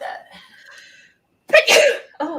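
A single loud, close sneeze bursts out after a quiet pause, with soft talking before it and another voice right after.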